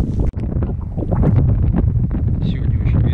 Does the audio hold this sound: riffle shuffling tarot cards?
no